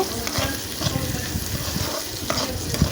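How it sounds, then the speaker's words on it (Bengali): Chopped garlic and onion, a native garlic clove and three onions, frying in a pan for a bitter gourd stir-fry, with a steady close sizzle and crackle broken by soft scraping stirs, alone without talk. "এবারে রসুন আর পেঁয়াজটা ভেজে নেব"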